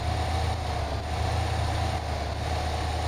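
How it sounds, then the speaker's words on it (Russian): A virtual off-road truck in MudRunner Expeditions engine-brakes in a low gear while creeping down a slope, giving a steady, droning low engine rumble that holds an even level throughout, with no voices over it. "Торможение двигателем."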